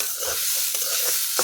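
Maan kochu (giant taro) being stirred and fried in a pan: a continuous close sizzling hiss, broken by a few soft scraping strokes of the spatula, with the last stroke near the end the loudest.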